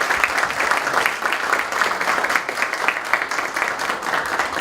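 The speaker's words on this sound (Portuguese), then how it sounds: "Então recebam com calorosos aplausos Caio Blinder." Warm applause from a seated audience welcomes a guest onstage at a talk event, a dense steady clapping throughout at close range, with no speech.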